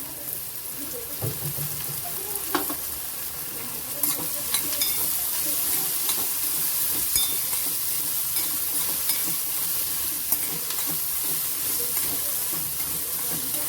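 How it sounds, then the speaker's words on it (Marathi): Spring onion, onion, ginger and garlic sauté in a hot pan for cauliflower manchurian, with a loud continuous hissing sizzle and occasional stirring scrapes, close by and with no voices. "छान असं आपल्याला परतून घ्यायचं आहे"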